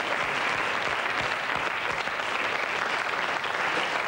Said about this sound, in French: je vous demande d'applaudir très fort Stéphane, Antoine, Fred, Franck et Christophe